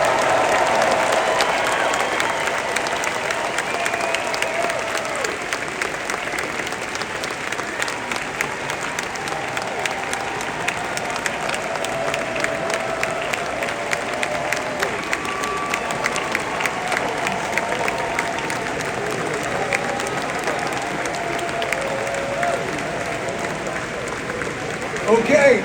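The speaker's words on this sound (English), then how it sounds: "give a big round of applause to the good folks from Tron Ares" A large Hall H convention crowd applauds and cheers for the Tron: Ares panel, a dense, steady roar of clapping and whoops sustained throughout with faint voices mixed in.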